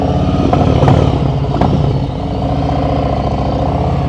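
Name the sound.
motorcycle throttle during slow speed riding practice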